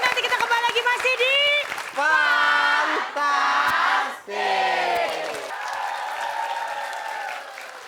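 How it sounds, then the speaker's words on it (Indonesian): A studio audience at an Indonesian television comedy show claps loudly and continuously, with cheers and whoops rising over the applause before it gradually fades. "kita kasih tepuk tangan buat Wendy, Tata, Dana, dan juga Pati"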